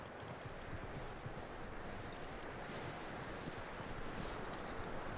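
Horse hooves clip-clop in Red Dead Redemption 2, a steady stream of hoofbeats under continuous broadband noise, moderately quiet and without talking.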